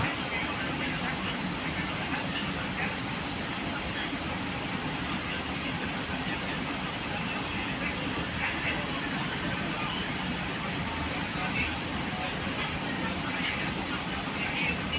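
Inside a Logawa New Generation passenger train pulling away from the station, a steady, muffled rumble of wheels and cabin noise runs continuously throughout.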